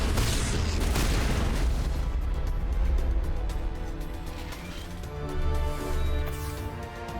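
Rocket blasts in Mass Effect Legendary Edition roll out as heavy booming explosions with deep rumble and debris crackle, loud and sustained, a second swell of blast noise following near the end.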